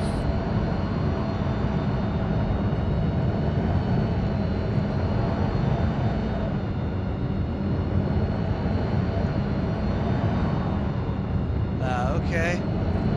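A spaceship's engines in Star Citizen thrum through takeoff as a loud, continuous low roar with a steady whine above it, held throughout.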